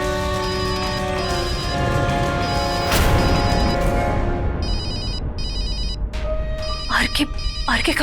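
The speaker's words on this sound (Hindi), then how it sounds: "आरके का फोन है।" A mobile phone rings in a dramatic domestic scene, its repeating electronic ringtone chirping over a loud crash and swelling music before the tone continues alone near the end.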